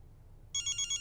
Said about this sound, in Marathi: निखिलच्या आईचा फोन.